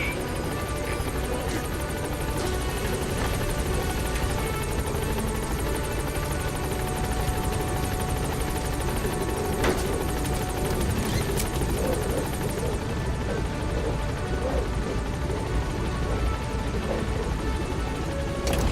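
The Pequod support helicopter in Metal Gear Solid V, a continuous loud rotor thrum and turbine whine holding steady throughout, with no clear speech.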